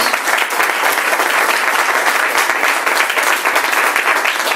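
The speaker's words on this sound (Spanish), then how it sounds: "Dale un fuerte aplauso a Dios." A church congregation gives God a loud, sustained round of applause, dense crisp clapping from many people held at full strength throughout, with faint voices beneath.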